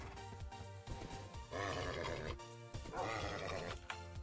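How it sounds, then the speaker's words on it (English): A horse in the Minecraft video game gives a couple of loud, rough whinnying neighs in quick succession over steady background game sound. "Look at our horse, just casually next to this."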